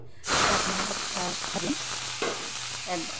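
Onion hits hot oil in a pan with a sudden loud sizzle that settles into steady frying hiss, punctuated by a few stirring scrapes.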